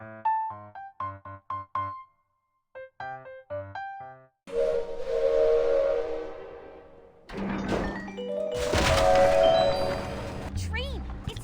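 A ghost train in the video game Infinity Nikki whistles as it starts, a loud sustained steam whistle with hissing steam after earlier short musical blips, fairly close.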